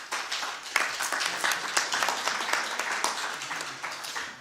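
An audience at an NGO workshop in Rome applauds for Côte d'Ivoire, with dense, moderately loud clapping spread evenly throughout and no clear voices on top.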